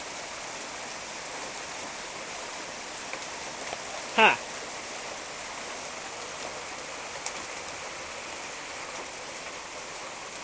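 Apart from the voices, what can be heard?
hail storm falling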